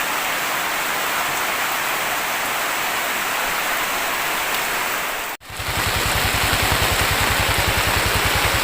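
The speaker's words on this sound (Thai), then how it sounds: "ฝนตกครับ" Heavy rain pours steadily at night during a fishing trip with hooks and frog bait, a loud, dense hiss that cuts out for a moment, then returns with a low rhythmic engine-like throb beneath it.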